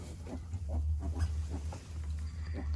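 Soft, repeated low grunts and snorts from pigs close by, irregular and steady over a low background hum.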